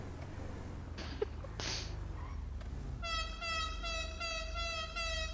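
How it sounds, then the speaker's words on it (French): A car horn blares in one long, sustained honk with a slight pulsing edge, starting halfway through after a few faint knocks over a low engine-like rumble. "Arrête de klaxonner."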